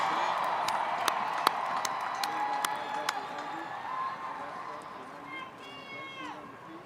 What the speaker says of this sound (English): Let's get ready to cheer on our master's graduates.